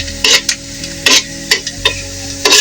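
Leafy greens with green chilies stirred in a pan, with repeated scraping strokes of a spoon against the metal over a low sizzle, loud and close, no talk.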